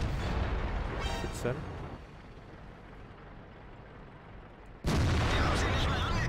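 Tank cannon fire in the World of Tanks game from a T-34-3 tank: a loud booming shot fades into a low rumble, then a second sharp blast hits near the end, with someone talking over the sound.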